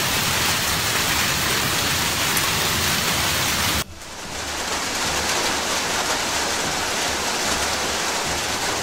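Heavy rain and hail pour down on a flooded beer garden during a summer storm in Germany, a loud, dense, continuous roar that briefly dips and shifts texture midway before surging steadily again, with no voices.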